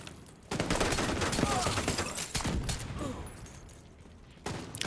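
Rapid gunfire bursts in a first-person shooter video game, loud and dense for several seconds, with a brief lull before another burst at the end.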